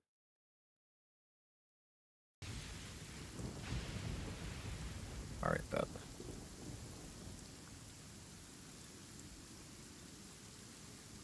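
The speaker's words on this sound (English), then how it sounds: "The sound of the summer showers." Summer rain shower with thunder: a steady hiss of rain with a rolling thunder rumble partway through that fades back into the rainfall. A voice speaks briefly.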